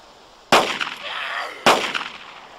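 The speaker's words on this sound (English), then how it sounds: "We're gonna have to shoot at it." Two loud, sharp gunshots fired at a zombie in the survival game DayZ, about a second apart, each with a ringing tail, no talking.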